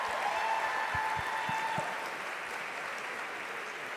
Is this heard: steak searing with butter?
no